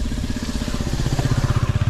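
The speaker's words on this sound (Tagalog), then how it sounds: "tingnan nyo yung mga motor di nila alam kung saan sila banda dadaan yan" Motorcycle engines putter and rev nearby as the bikes pick their way over fresh loose sand spread on a damaged road, a steady pulsing mid-pitched drone growing rougher toward the end.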